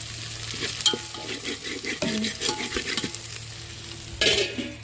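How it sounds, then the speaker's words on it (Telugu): Masala fries in a pan for chicken curry, a close, steady sizzle under repeated scraping stirs and occasional metallic clinks from the spoon, with no voices. "బాగా కలిపించుకున్నాం బాగా ఫ్రై అవ్వాలండి"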